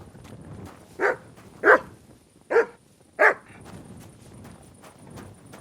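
Dog in Kingdom Come Deliverance 2 barks four times, nearby and loud, with short gaps between the barks over a quiet background, and soft footsteps follow.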